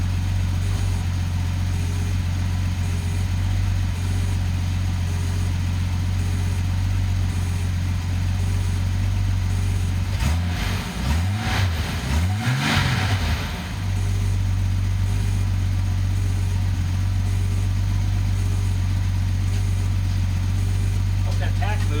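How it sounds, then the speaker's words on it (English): A Datsun 280ZX turbo engine holds a steady, droning idle, then takes a couple of quick throttle blips in the middle that rise and fall in pitch, and settles back to idle, with talk heard over it. "I'm going to throttle it a couple times."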